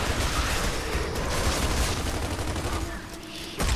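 Dense blind-fire gunfire in the Gears of War 3 video game, continuous rapid shots with booming impacts, loud and close, with shouting voices mixed in.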